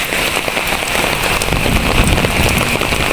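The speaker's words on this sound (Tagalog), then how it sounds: "Baba ako ng bus, biglang bagsak yung ulan." Heavy rain suddenly pours down outdoors near a bus stop, a loud, dense, continuous hiss of drops striking the ground and nearby surfaces with no break.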